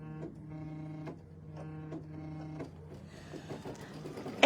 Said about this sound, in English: the machine does talk to you when it embroideries. It hums.